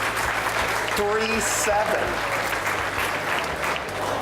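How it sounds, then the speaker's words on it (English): An outdoor crowd at a bass fishing tournament weigh-in claps steadily and fairly loudly while an announcer's voice speaks briefly over the applause. "Round of applause"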